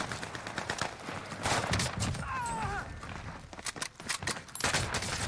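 Bursts of automatic gunfire in the Warzone battle royale on Rebirth Island, rapid repeated shots in clusters, fairly close and loud, with a brief gap and some faint background movement between volleys.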